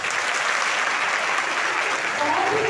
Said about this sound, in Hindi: एक बार सब बेटियां अपने लिए तालियां बजा लीजिए